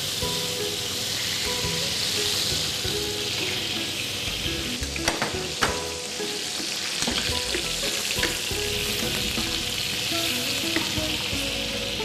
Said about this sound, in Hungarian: A forró serpenyőben vajat